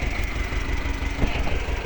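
A T-25 tractor engine runs steadily at close range, a loud, even low rumble with a rhythmic chug throughout a winter ploughing session with a Bomet plough.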